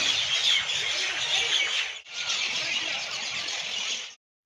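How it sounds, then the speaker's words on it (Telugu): A dense, continuous chorus of shrill bird calls in the evening in Qatar, loud and steady, dipping briefly midway before cutting off abruptly. "ఈవినింగ్ అయిపోయింది అప్పుడే పక్షులు చూడండి ఎలా అరుస్తున్నాయో"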